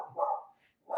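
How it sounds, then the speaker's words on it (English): A pet dog gives two loud, close barks about a second apart, with a brief quiet gap between them, heard during a Magic: The Gathering Legacy stream. "My fucking dog."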